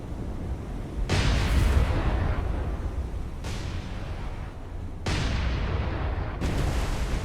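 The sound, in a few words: naval guns firing AP rounds in video game War on the Sea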